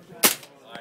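A single sharp shot from a suppressed S&W MP15 rifle in .300 Whisper at a firing demonstration, close and abrupt, with a fainter crack following a moment later.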